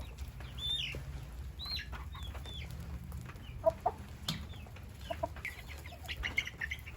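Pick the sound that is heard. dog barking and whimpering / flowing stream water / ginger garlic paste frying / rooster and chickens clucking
rooster and chickens clucking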